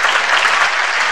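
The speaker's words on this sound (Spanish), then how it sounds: "Démosle un fuerte aplauso a Humberto." Steady, dense applause from a conference audience, loud and continuous throughout the short moment with no break.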